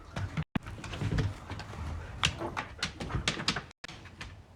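A dog whimpering close by, in soft, repeated high whines mixed with rustling and shuffling movement, as if being carried or led indoors, with two brief cut-outs of near silence.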